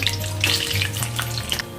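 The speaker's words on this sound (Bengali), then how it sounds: "কাজুটা মোটামুটি ভাজা হয়ে গেছে" Steady hot sizzling of cashews frying in ghee with bay leaves and whole spices, loud and close, with small crackles and a faint stirring clatter throughout.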